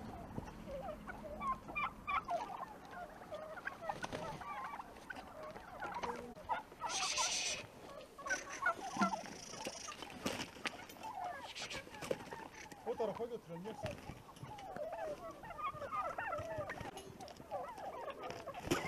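A flock of farm-raised turkeys in Elazığ gobbles and chatters continuously, with many overlapping calls at moderate distance and voices mixed in.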